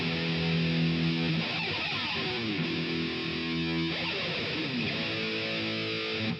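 A distorted electric guitar with echo and reverb, sustained tones swept by gritty scraping as the pick is dragged along the wound strings, loud and continuous.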